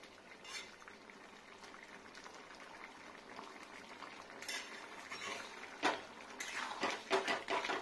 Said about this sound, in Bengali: আজ শনিবার, নিরামিষ রান্না, একটু ফুটে যাক।